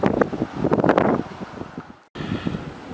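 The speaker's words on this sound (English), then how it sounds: "Okay, right off the bat I'm going to apologize for the wind." Gusty outdoor wind buffets the microphone in loud, rumbling bursts that swell and fade, with a brief dropout before the blowing resumes.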